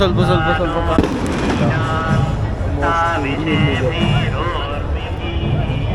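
Firecrackers crackle and pop repeatedly through a crowded night celebration in Udupi in the small hours, mixed with a constant hubbub of voices and people talking nearby.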